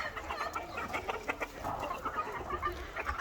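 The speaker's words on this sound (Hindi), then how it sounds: "इस माशाल्लाह जी मुर्गियाँ हमारी जो गोल्डन मिश्री हैं, ये तो भाग दौड़ करके जी बाहर आ जाती हैं।" Golden Misri hens clucking as they scurry out of their coop, a steady run of close, overlapping clucks and soft cackles from several birds with faint farmyard background.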